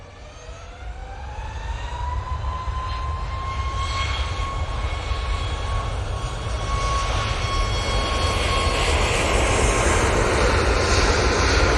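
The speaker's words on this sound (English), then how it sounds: "There's Ryanair, off to Murcia." A Ryanair airliner departs Manchester Airport for Murcia, its jet roar building from moderate to loud and holding steady, with a high whine riding over the broad rumble.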